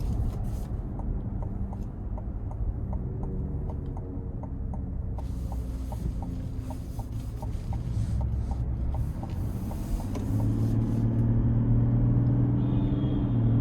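A 2026 Chevy Tahoe High Country SUV with a 10-speed transmission driving, a steady low engine and road rumble heard from inside the cabin, swelling louder and deeper toward the end as it accelerates.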